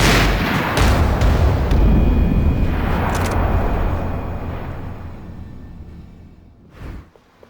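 Heavy, sustained gunfire with booming low rumble in the shooter Max Payne 3, loud at first, then fading away into quieter ambience with a brief late swell.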